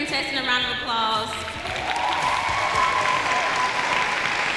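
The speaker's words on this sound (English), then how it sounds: "can we take just a moment to give every contestant a round of applause?" Audience applause for beauty pageant contestants at the Miss TU Pageant 2015, a loud sustained wash of clapping that runs the full length, with a held tone and a voice briefly heard over it.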